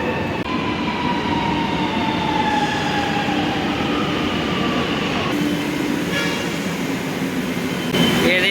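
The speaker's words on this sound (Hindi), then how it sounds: "हाँ ये जाए वाले ट्रेन है" Lucknow metro train pulling into a station, a steady loud rumble with rising and falling tonal whine that stays close and constant throughout, ending with a brighter burst as it settles.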